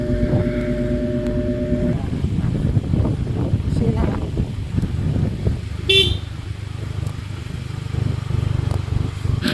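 A motorcycle horn blares with a steady tone for about two seconds over a running engine on a downhill road, then the motor rumbles on with brief faint beeps.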